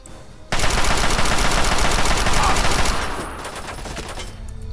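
Machine gun fire in the video game Fallout 3: a loud, rapid stream of shots that starts abruptly, then thins to a lighter rattling burst.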